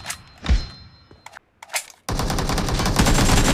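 Gunfire in the PUBG Mobile shooter game: a few loud single shots and thuds, a brief lull, then a sustained burst of rapid automatic fire that stays close and dense until the end.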